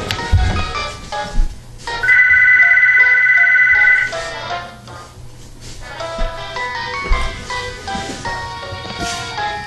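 A phone rings during a Pokemon Black and White game, its loud electronic ringtone chiming over in-game music and tones.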